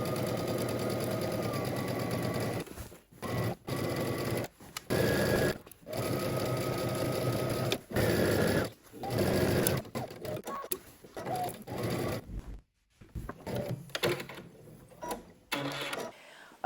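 Sewing machine stitching the facing of a Simplicity S3071 garment, with rapid mechanical whirring bursts broken by short pauses and stop-start runs of varying length, close and moderately loud.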